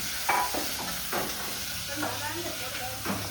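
Chopped onion sizzles as it is tempered in hot oil, a steady close frying hiss broken by intermittent stirring scrapes, with no talking.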